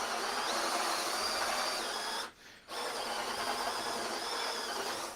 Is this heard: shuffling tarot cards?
no